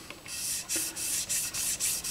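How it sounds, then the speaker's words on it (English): Sandpaper on a sanding stick rubbing over the polyester finish of a Fender maple guitar neck, close and quiet, in about eight rhythmic back-and-forth strokes. "I'm doing a lot of sanding today."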